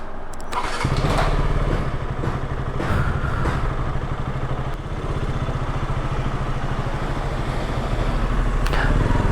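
A motorcycle engine starts up, then settles into a steady, close idle with a deep throbbing rumble and some light mechanical clatter, no talking.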